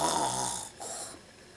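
A voice imitates snoring, giving a short, soft, breathy snore in two parts, the second fainter than the first.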